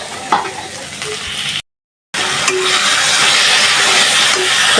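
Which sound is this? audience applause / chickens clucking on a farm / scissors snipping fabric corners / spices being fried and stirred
spices being fried and stirred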